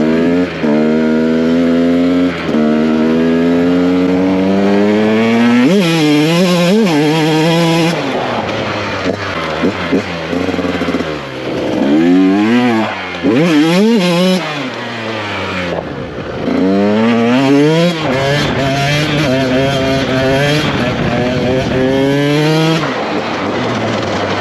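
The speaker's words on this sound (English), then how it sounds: "It loves to be revved." A 2024 GasGas 125 dirt bike revs hard and loud up close, its engine pitch sweeping up and falling back in repeated sharp, barking blips.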